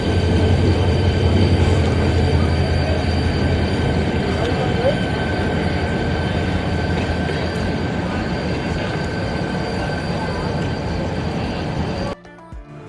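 Fareed Express passenger train standing at Karachi City station at night before departure, a steady loud rumble of idling locomotive and rail noise with a constant hum, continuous throughout and cutting off abruptly near the end.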